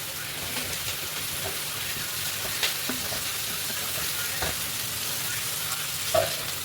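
Ground spice paste, two cinnamon sticks and tomatoes frying in a pan for chicken kosha, a steady close sizzle with soft scraping stirs and a few light knocks of the spoon.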